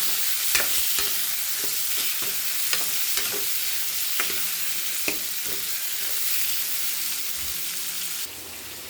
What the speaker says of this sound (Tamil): உருளைக்கிழங்கு போட்டுக்கலாம், கத்திரிக்காய் போட்டுக்கலாம், நல்லா வதக்கிக்கலாம்.